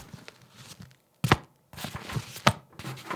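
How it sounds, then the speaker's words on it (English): A couple of sharp, close thunks with soft rustling between them as the magnetic flap of a Wotancraft Sniper camera bag snaps shut. "the flap is held by a magnet. Check this out."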